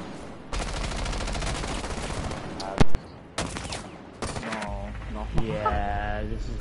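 Gunfire in Rainbow Six Siege: several loud bursts and sharp shots scattered through the stretch, with players' voices and game sounds mixed in around them.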